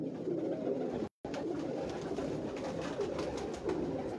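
Dub pigeons on a Lahore rooftop coo steadily in a soft, continuous low murmur, close and moderately loud, with one brief dropout early on.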